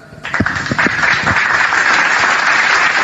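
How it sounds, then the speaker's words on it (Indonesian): Applause rises abruptly from a congregation during a religious talk, with a few distinct early claps quickly swelling into sustained, loud, dense clapping that carries on to the end. "Tepuk tangan dulu."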